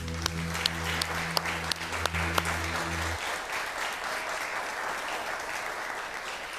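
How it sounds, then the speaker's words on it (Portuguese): Church congregation applauding the name of Jesus, dense steady clapping from many people with a few sharp louder claps standing out, while a low sustained tone fades out partway through. "Vamos aplaudir o nome de Jesus."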